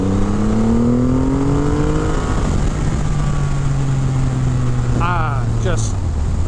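A 2500 cc Triumph Rocket 3 GT motorcycle engine revs loud and close, its low pitch climbing steadily then settling into a steady rumble, with a brief higher whine near the end.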